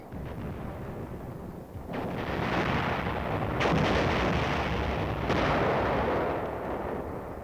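Artillery fire pounds an enemy bunker in the 10th Corps sector: a loud, continuous roaring rumble punctuated by three heavier blasts that spread into long, dense reverberation, with no voices.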